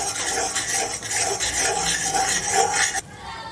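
Flour roasting in ghee for sukhdi, stirred steadily in a pan, a continuous near scraping and rubbing with a faint sizzle, ending abruptly near the end.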